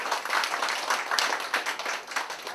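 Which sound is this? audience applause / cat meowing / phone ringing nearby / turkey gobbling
audience applause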